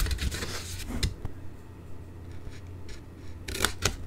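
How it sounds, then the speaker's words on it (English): Small craft scissors snipping patterned paper for a Stampin' Up desktop calendar and note holder card project, several quick crisp nips in short bursts, close up, with no talking. "We're going to need our little scissors again."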